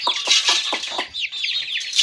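A breeder rooster about a year and a half old clucks up close, loud, with a rapid series of short clucks followed by higher, drawn-out squawking calls.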